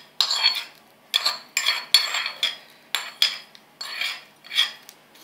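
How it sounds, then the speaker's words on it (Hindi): A spoon mixes a tempering into coconut chutney, giving about eight sharp bursts of metal scraping and clinking against a bowl in a steady rhythm, close and clear with short pauses between strokes. "इस तड़के को हम इस चटनी में डालेंगे"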